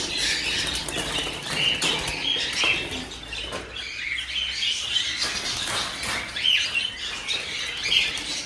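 Birds flutter and chirp at a harvest site, with wing patter and scratchy calls layered over a continuous busy outdoor background.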